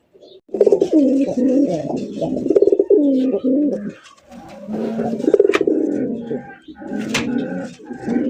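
A pair of red, old-breed crested Golla pigeons coo close by in repeated throaty, rolling phrases separated by brief gaps.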